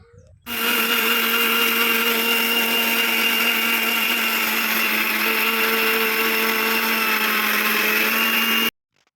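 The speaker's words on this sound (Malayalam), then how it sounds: "ഇനി നമുക്കിതൊരു മിക്സിയുടെ ചാറിലിട്ടിട്ട് നന്നായിട്ടൊന്ന് പൊടിച്ചെടുക്കാം" A kitchen mixer grinder pulverises dried rice into flour for Kerala achappam, a loud, steady motor whine with a harsh grinding rattle running continuously for about eight seconds, starting and stopping abruptly, with no talking.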